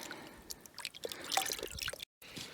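Water drips faintly from cleaned, ungutted fish left to drain in a small crate: sparse, irregular soft drips over a quiet background, with a short gap of silence near the end.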